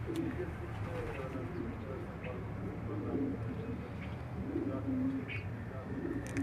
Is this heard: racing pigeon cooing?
yes